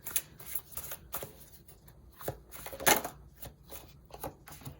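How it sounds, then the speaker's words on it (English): Tarot cards are shuffled by hand in a series of crisp riffling bursts and soft slaps, irregularly spaced and close to the microphone, with no talking. "So as I'm shuffling, I would like you guys to think of your question"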